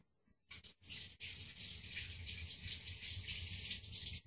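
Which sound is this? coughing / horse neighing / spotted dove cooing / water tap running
water tap running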